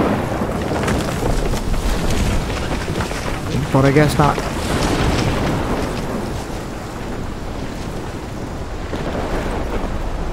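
Stormy wind roaring with low rumbling like distant thunder in the video game Life is Strange, a steady dense wash throughout with a brief tonal sound near the middle and someone speaking over it.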